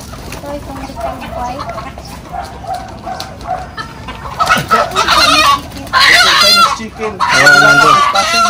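Native and heritage chickens, including Chinese breeds, clucking at a small farm, several birds close by with louder bursts of clucks and cackles toward the end, mixed with people talking.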